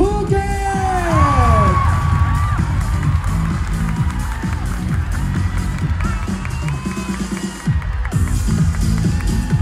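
A large crowd at the Miss Grand Thailand 2022 pageant cheers loudly for Miss Grand Phuket, with whoops, yells and applause, and an announcer's voice rising over the din.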